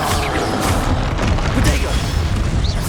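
Confringo blasting spell explosions in the Hogwarts Legacy video game, heavy booming bursts over a dense, continuous rumble of battle noise, with shouted spell voices mixed in.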